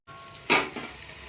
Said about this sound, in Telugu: వంకాయ కర్రీ కోసం పోపు చేసిన